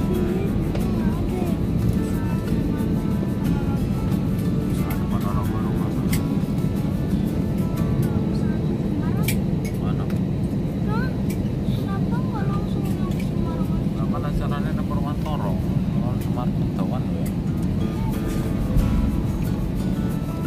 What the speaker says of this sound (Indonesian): Telah mendarat mulus di Surabaya atau Bandara Juanda Surabaya.